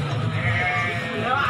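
Goats and sheep bleat close by at the Plembon livestock market in Klaten, Indonesia, a continuous busy din of calling animals with crowd murmur underneath.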